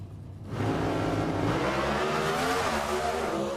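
NHRA drag racing cars launching off the starting line during Saturday qualifying at Brainerd, a sudden loud engine roar that erupts after a brief quiet moment and holds steady at full volume.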